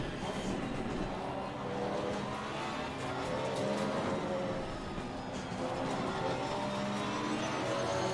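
A high-revving Lamborghini Huracan engine roars continuously in the racing game Assetto Corsa Competizione at Imola, rising and falling through gear changes, with a race-game mix and no clear speech.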